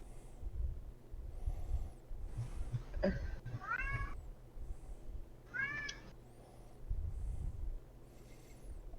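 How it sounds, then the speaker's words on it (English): A cat meows indoors several times, drawn-out rising and falling cries spaced a couple of seconds apart, heard fairly close over a low background rumble and faint shuffling, with no one talking. "What is that cat doing?"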